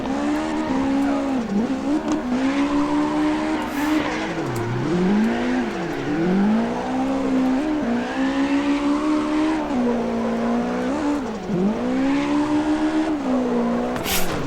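A car drifting in the CarX Drift Racing video game: a continuous engine drone rising and falling with revs, mixed with tire squeal and skidding for about fifteen seconds, loud and steady with no talk.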